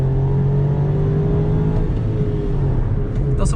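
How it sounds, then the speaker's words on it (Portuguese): Nissan Versa accelerating hard in second gear from about 20 km/h, a steady engine drone that rises in pitch under full throttle, heard from inside the car with no talk. "Vamos fazer aqui uma retomada de novo de segunda marcha. Segunda marcha, 20 por hora, afundei o pé."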